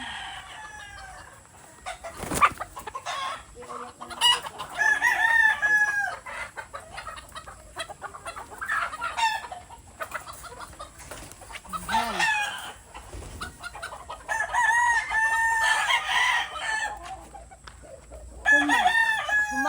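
Several purebred White Kelso roosters crow in turn against a busy farmyard backdrop of hens clucking, with calls overlapping and varying in distance.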